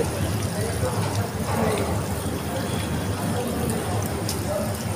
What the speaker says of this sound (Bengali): এসেছি আমরা হাত ধুতে।